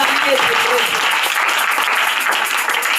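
A church congregation applauds loudly and steadily, with dense, sustained clapping filling the room while a voice can be heard calling out over it.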